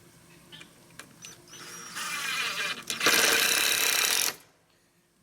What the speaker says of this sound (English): I'm going to put screws in the ends first.